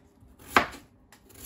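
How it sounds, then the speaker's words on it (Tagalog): A kitchen knife chops through potatoes being cut into triangle shapes on a cutting board, two sharp, close knocks spaced about a second apart. "hinihiwa ko ng paganito para may konting korte sa ating menu"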